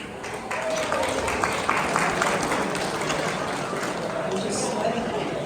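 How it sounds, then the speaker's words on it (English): Applause from a crowd at a New York real estate association's annual installation gala, sustained dense clapping across the whole stretch with a faint voice over it. "one more round of applause for our 2026 partners"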